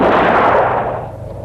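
A pistol shot in a Hindi-dubbed Hollywood film: one loud, close blast with a broad boom that decays over about a second, with no talk over it.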